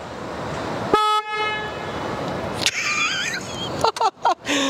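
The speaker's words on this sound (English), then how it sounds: "So horn check for the Harley Road Glide" Horn on a Harley-Davidson Road Glide Ultimate motorcycle, one short bright toot followed by quieter scattered sounds, loud and close, with no talking.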